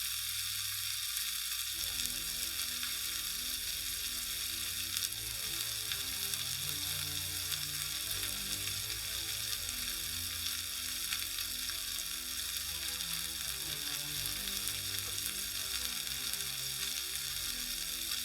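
Korean BBQ meat sizzles steadily on a grill, a close, continuous crackling fry with dense popping and no speech over it.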